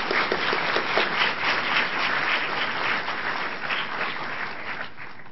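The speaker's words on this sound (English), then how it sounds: "Let's give all of them a big round of applause" Sustained applause from the audience at a Buddhist lecture, a dense, even wash of many hands clapping that fades slightly toward the end.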